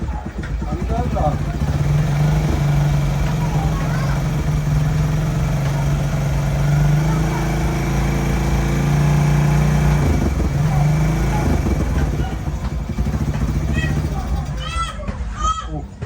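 A small engine in a garage idles steadily and fairly loudly after starting, running throughout while children play and people talk over it.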